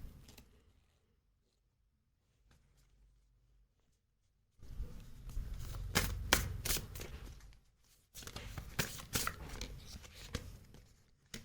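Tarot cards being handled, shuffled and laid out on a surface make quick, crisp papery flicks and slaps, close and fairly quiet, in bursts after a near-silent opening.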